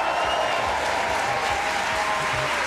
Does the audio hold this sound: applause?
yes